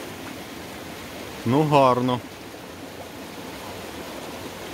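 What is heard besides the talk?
mountain stream flowing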